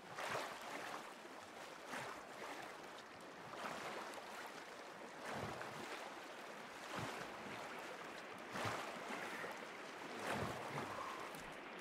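Character swimming through water in the survival game Sons of the Forest, with soft rhythmic splashes and strokes repeating every second or two over a quiet, continuous wash of water.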